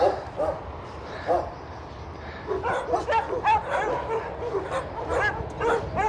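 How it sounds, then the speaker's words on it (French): A dog in the horror video game Haunted barks and yips repeatedly, irregular bursts at moderate distance, with someone speaking briefly over it. "il y a un chien là-bas"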